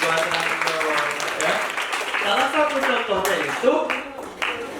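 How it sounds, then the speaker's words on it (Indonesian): Classroom applause, students clapping hands together in a dense, fairly loud burst that carries on throughout, with voices and chatter mixed in among the clapping. "Oke, tepuk tangan."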